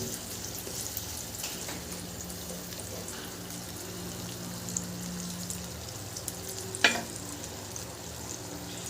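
Coconut chicken simmering in a pan, a soft, steady bubbling and sizzle at low level, with a brief sharp clink near the end.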